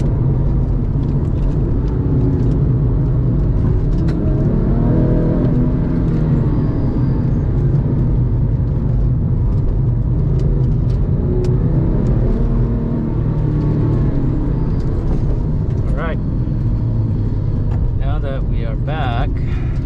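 A Porsche 996 sports car drives with a loud, steady engine drone and road roar heard from inside the cabin, building as it accelerates, with a few brief high chirps near the end.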